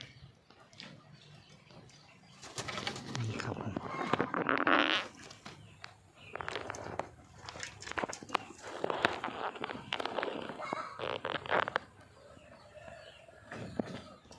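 Close, raspy clucking and scratchy calls from a red junglefowl rooster, with rustling and shuffling movements between bursts, fairly faint overall.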